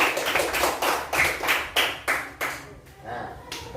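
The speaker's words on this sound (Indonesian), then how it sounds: "sekarang kita beri tepuk tangan buat kelompok 1 yang sudah presentasi" A classroom gives applause after a group presentation: a string of loud, near hand claps in a rhythmic beat, slowing and fading toward the end, with voices underneath.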